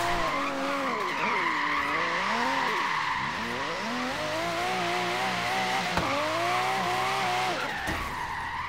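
A car drifting in Forza Horizon 3 with sustained, wavering tire squeal over a high-revving engine, loud and continuous, the pitch sliding up and down as the slide changes.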